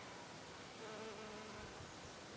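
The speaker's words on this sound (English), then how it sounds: "there's a really unusual bee there" A small, unusual bee buzzes around geranium blooms on a sunny afternoon, a faint, steady hum over quiet outdoor background.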